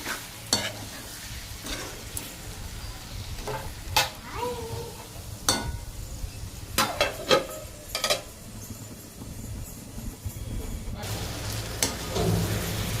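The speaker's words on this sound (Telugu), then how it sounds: "మధ్య మధ్యలో ఇలా కలుపుతూ ఉండాలి." Brinjal curry stirred and frying in a pan, a steady sizzle under repeated scraping and clinking of the spoon against the pan, close and moderately loud.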